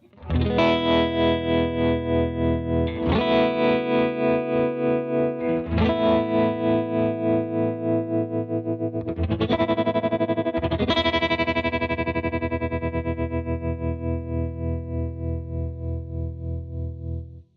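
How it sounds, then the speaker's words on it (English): Sustained electric guitar chords through a tremolo pedal, pulsing with a steady, rapid throb, changing chords every few seconds, loud and continuous. "So here is a tremolo sound that I've set up."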